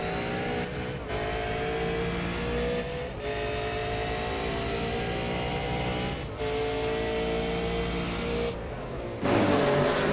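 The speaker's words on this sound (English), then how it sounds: "He's holding on very nicely in his super black racing Ford Falcon, the number 2 car." A black Ford Falcon V8 Supercar, the number 2 car, races at Brands Hatch with a loud, sustained engine roar that shifts pitch through gear changes, with brief dips as it comes off the throttle and a sharper burst near the end.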